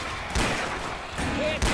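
Explosive rounds fire in Left 4 Dead 2 as a few sharp, close bursts spaced about a second apart over ambient game noise.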